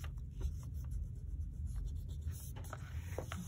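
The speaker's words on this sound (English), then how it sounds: "I'm gonna pull out this eraser and just erase my pencil mark lines down here" Pencil lines being erased from a bullet journal page with an eraser, a steady close scratchy rubbing that runs throughout in quick back-and-forth strokes, with no talking.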